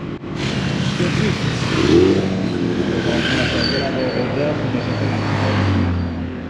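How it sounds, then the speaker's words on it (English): Car engines rev and roar loudly at a drift show in France, a continuous, sustained engine drone with rising pitch swells, and voices talking over the noise. "It's a tournament championship, a drift show."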